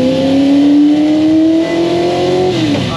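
1968 Ford GT40 Mk1 engine accelerating hard from inside the car, a loud rising snarl climbing steadily through the revs before a brief dip at the gear change, no voices.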